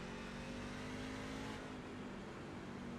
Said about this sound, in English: Listen to the sound of this V8.